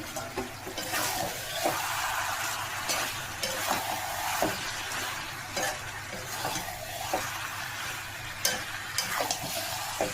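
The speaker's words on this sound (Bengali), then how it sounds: "এবার আলুটাকে আর পেঁপেটাকে একটু ভেজে নেব।" Potato and papaya pieces fry with spice powder in a small pan, giving a continuous crackling sizzle broken by regular scraping stir strokes, close and fairly loud.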